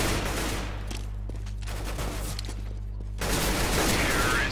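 Gunfire in Counter-Strike rattles off in rapid bursts, with a fairly dense volley early on and another flurry near the end over a steady game background hum.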